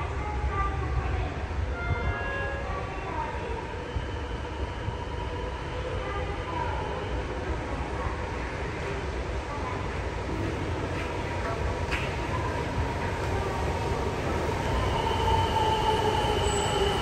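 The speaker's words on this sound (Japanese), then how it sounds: "1番ホームに真駒内行きが到着します。" A train arrives at platform 1 of Asabu Station, bound for Makomanai, during track equipment renewal works. Its steady rumble continues throughout, with thin wheel squeals rising over it, heard from the platform.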